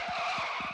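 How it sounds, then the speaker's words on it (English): Car tires skidding in the Content Warning video game, a sustained screeching squeal with rough grinding pulses underneath, steady and fairly loud for under a second, no talk. "Car skid."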